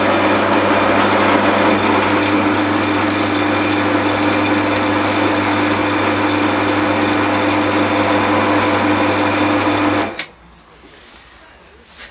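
A restored lathe runs steadily with its spindle and gearbox turning, a loud continuous mechanical whir and hum that holds for about ten seconds before cutting off abruptly into quiet.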